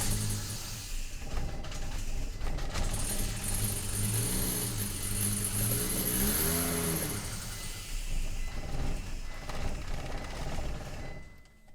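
Volvo car engine cranking and trying to start after suspension, brake and clutch work, a strained grinding turnover with rising and falling mechanical tones, close and fairly steady for around ten seconds.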